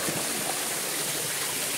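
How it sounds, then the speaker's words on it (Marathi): A waterfall pours steadily in the background as friends visit it, a constant broad rushing wash of water that stays even throughout, with no talk over it. "बघू शकता सेकंड धबधबा असा काहीतरी आहे."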